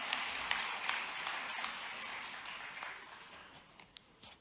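Applause from the audience in an auditorium at the Madhya Pradesh Mining Conclave, fairly faint and distant, a scattered clapping that slowly thins out with a few last claps near the end.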